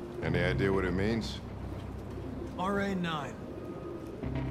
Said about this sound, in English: Okay, he really likes pigeons.